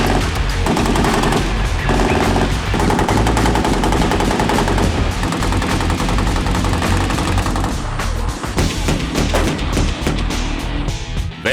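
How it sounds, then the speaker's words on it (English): Sustained battlefield firepower demonstration at an Army-hosted intercollegiate shooting event: a 50 caliber M2 machine gun, 120 millimeter mortar and a Bradley's 25 millimeter chain gun firing in loud, dense, overlapping bursts that continue without pause throughout. "then it's a battlefield demonstration of the firepower with the 50 caliber M2 machine gun, the 120 millimeter mortar, and the Bradley's 25 millimeter chain gun"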